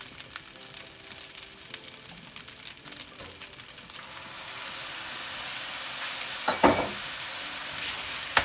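Egg fried rice sizzles loudly in a pan just after light soy sauce goes in, a dense crackling hiss that grows stronger near the end with a brief burst of spitting.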